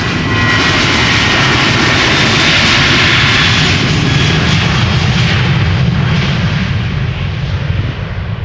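A KLM Boeing 737 jet in old livery roars loudly and close at Amsterdam Schiphol, a dense continuous engine blast with crackling texture that holds steady and eases slightly toward the end.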